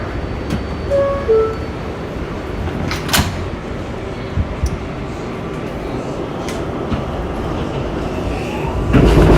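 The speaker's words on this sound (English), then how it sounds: "This is a Manhattan-bound 7 local train." A Manhattan-bound New York 7 local subway train stands at a station, then its doors close with a couple of sharp knocks before a steady rumbling roar builds as it pulls away, loud and close throughout.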